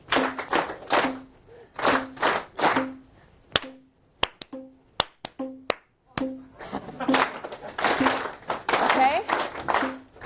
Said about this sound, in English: Continue to clap, please.